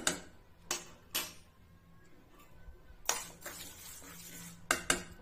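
Whole cumin, coriander, fennel and dried red chilies dry-roasting in a hot wok, heard as quiet, sparse scrapes and light clinks of stirring at irregular intervals over a soft background hush.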